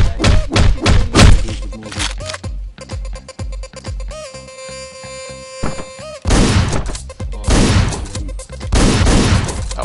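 Gunshots in Hotline Miami: rapid punchy bursts of loud thumping shots open the stretch, a musical electronic passage follows, then more dense blasts come back near the end.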